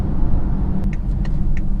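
2018 BMW X3 30i engine and road rumble heard from inside the cabin while driving, a steady low drone with faint chime-like beeps near the end, no talk.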